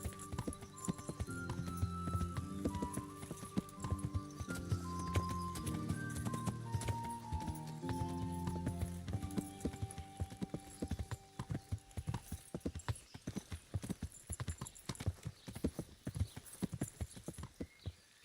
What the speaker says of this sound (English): Let's ride up there on our horse because it'll take ages otherwise.